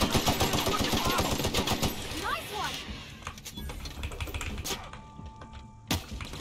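Gunfire from a sniper rifle and other weapons in the sci-fi game The Outer Worlds, rapid clattering shots in bursts early on, then fewer sharper reports with a loud crack near the end.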